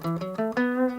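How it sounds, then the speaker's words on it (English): A melodic instrument plays a quick ascending pentatonic scale, four clear stepwise notes with rich harmonics rising in pitch within about a second, alone with no voices. "So there's a scale called the pentatonic scale, and it sounds something like this."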